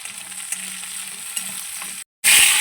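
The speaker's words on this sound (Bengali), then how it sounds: "আমি একটা একটা করে সবজিগুলো কিন্তু ভেজে নেব প্রত্যেকটা সবজি আমি আলাদা করেই ভাজবো" Vegetables fry in butter in a pan, a steady sizzle with stirring scrapes, broken by a brief silent cut before a louder burst of frying.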